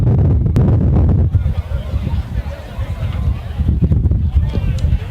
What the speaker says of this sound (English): And it's sure getting windy up here.